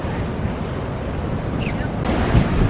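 Rough ocean surf heaving against a rocky shore at Costa Maya, a steady broadband wash with wind buffeting the microphone, swelling slightly louder near the end, no voices.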